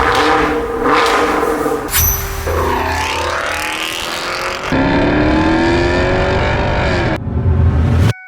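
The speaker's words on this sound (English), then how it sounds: "we're gonna put a Corsa Extreme axle back on it, and I promise you, it's gonna sound like a beast" A Camaro LT1 fitted with a Corsa Extreme axle-back exhaust revs hard and close, its engine note climbing and falling through several loud pulls with sharp cut-offs between bursts, with no talking over it.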